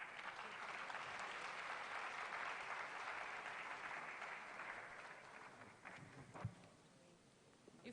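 A room full of people applauding at a policy forum's opening, sustained dense clapping that thins and fades toward the end, with a faint voice emerging as it dies away.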